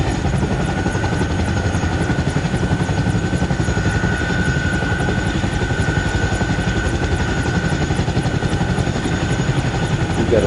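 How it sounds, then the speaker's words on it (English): Helicopter engines warm up before lift-off in the Arma Reforger military simulation game, a loud continuous turbine whine with steady rotor chop throughout, no voices. "We're going to be going and getting the engines warm."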